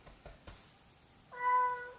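A cat gives one clear, drawn-out meow near the end after a few soft thumps and rustles, fairly close and alone without talk.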